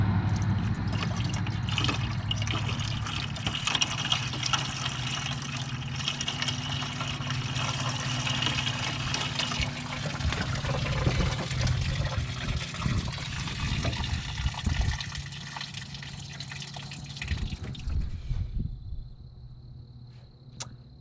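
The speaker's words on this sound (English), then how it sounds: "We're gonna put some water in it and see how bad it is." Water pours steadily into the radiator of a turbocharged Ford Ranger pickup with a suspected head gasket fault, a continuous close trickling and splashing for about eighteen seconds before it stops abruptly.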